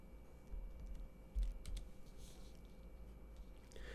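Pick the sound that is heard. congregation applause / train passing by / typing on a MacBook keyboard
typing on a MacBook keyboard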